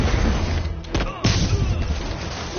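Weapon fire in a video game sounds out as two sharp, loud blasts amid steady battle noise, with character voices speaking over the action.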